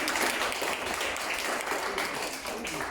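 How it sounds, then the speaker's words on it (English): A crowd at a Queensland Day and Queen's Platinum Jubilee celebration breaks into a round of applause, steady many-handed clapping heard somewhat faintly, as from a distance, with no voices rising above it. "Oh, a round of applause."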